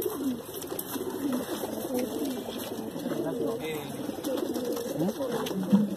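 A broad-winged female pigeon coos softly at close range in repeated low notes, with a faint steady background hum behind it.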